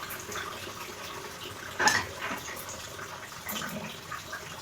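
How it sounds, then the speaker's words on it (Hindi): Running tap water splashes while dishes are washed by hand, a low steady trickle with one brief louder splash and clatter, fairly faint and close. "तो मैं यहाँ पे धो रही हूँ बर्तन को।"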